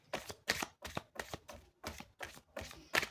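Playing cards shuffled and handled in about eight distinct riffling bursts spaced roughly evenly, close and crisp, with no voice.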